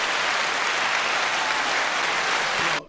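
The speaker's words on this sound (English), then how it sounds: "Give y'all a round of applause one more time." A podcast audience gives a round of applause, steady dense clapping that holds at full strength for nearly three seconds and then cuts off abruptly, with no talk over it.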